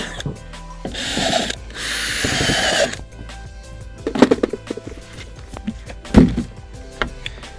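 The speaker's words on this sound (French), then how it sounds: "J'ai donc fait toute une série de trous d'environ 14 mm sur toute la circonférence de mon récipient." Power drill boring roughly 14 mm holes into the side of a plastic bucket, with a sustained whirring burst near the start followed by two short sharp grinding bites as the bit breaks through, close and fairly loud.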